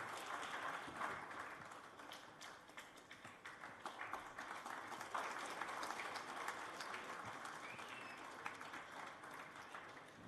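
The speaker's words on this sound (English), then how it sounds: "Can we have a round of applause for David, sir, please?" Audience applause at a motivational talk, faint and distant, with steady crowd clapping running unbroken for about ten seconds and no voices over it.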